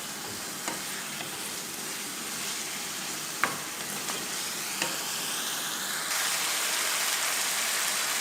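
Cooking oil sizzles steadily in a pan over a raised flame for chicken karahi, a continuous bright hiss with a few sharp clinks, growing slightly louder toward the end.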